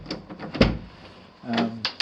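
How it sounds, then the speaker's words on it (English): An upstairs interior door drags across carpet during a home inspection, giving two short scraping rubs with a soft thump between them. "this door drags on the carpet"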